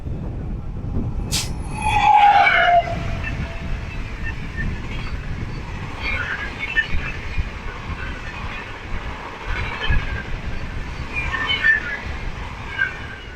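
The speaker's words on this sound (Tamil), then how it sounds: "ஒரு எக்ஸ்பிரஸ் ட்ரெயின் வருது பாருங்க ஆப்போசிட்ல." The Lalbagh Express train rumbles past close by on the opposite track with a steady low roar and faint rhythmic clatter, a brief whistle-like tone sounding near the start.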